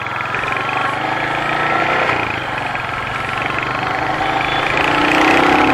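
A Royal Enfield Hunter 350 single-cylinder motorcycle rides along with a steady, close, throbbing engine drone that rises in pitch toward the end as it accelerates.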